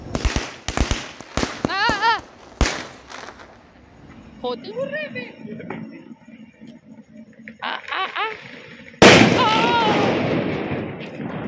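Firecrackers burst during Diwali celebrations, sharp loud cracks in a rapid cluster at first, then scattered pops and one heavy close blast near the end, with people talking and shouting between and over the bangs.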